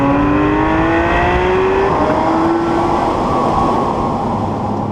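A Porsche 911 GT3 engine pulling hard toward its high-rpm limit, a loud continuous mechanical wail with tones that climb steadily and then repeat through gear changes.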